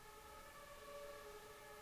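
A fire truck siren from a passing fire convoy holds steady, faint and distant wailing tones over low background rumble, with no talk.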